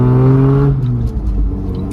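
A lifted 4x4's engine revs hard with a loud, throaty exhaust. It holds a steady high drone, then drops into a rougher, rumbling idle.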